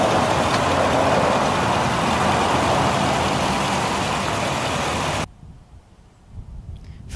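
A Ford F-250 pickup's 6.2-liter V8 idles with a steady, close, broadband rumble for about five seconds, then cuts off abruptly, leaving near silence with a faint bump at the end.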